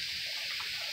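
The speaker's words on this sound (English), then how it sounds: "I'm going to take the sauce and pour it in the pot" Vegan lasagna sauce pouring into a pot gives a steady close hiss and trickle with no voices, a brief continuous liquid wash.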